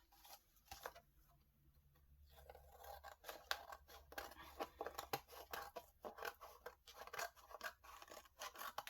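Soft, irregular snips and scratchy scraping of scissors cutting paper, quiet and close, speeding into a busier rhythm toward the end.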